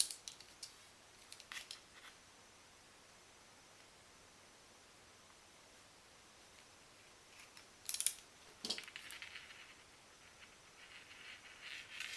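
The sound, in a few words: cutting LED wire end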